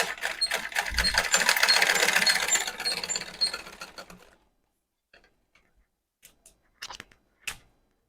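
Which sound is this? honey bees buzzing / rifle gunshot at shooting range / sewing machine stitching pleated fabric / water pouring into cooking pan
sewing machine stitching pleated fabric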